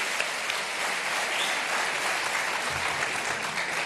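An audience at a religious debate between Ahmed Deedat and a pastor breaks into steady, dense applause, a loud even wash of clapping that holds for several seconds with no talking.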